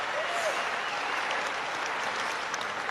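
Large rally crowd in Cedar Rapids, Iowa applauding, a dense, steady wash of clapping from many people that holds loud and unbroken throughout, with no clear individual voices.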